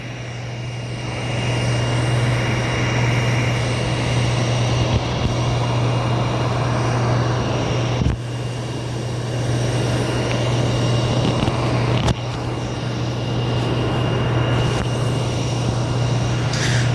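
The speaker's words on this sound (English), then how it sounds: "There's the EasyJet one just about to push back" An EasyJet airliner pushes back at Madeira airport, its engines giving a steady, loud, low hum with a broad roar on top and a couple of brief knocks along the way.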